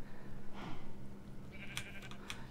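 A sheep in Minecraft bleating, a few short bleats over quiet game background noise with no voices.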